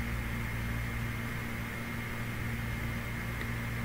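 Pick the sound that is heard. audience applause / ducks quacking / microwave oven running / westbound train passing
microwave oven running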